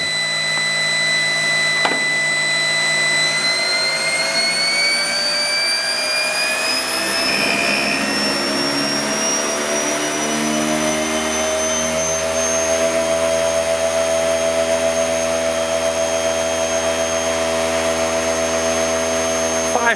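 An aircraft DC starter-generator spins up as its whine climbs steadily in pitch, loud and close, settling into a sustained high-speed hum with layered tones.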